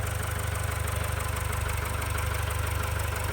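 An XCMG LW156FV wheel loader's engine runs steadily with a loud, even mechanical hum and rhythmic throb, heard close and alone, delivered at a palm yard in Nakhon Si Thammarat.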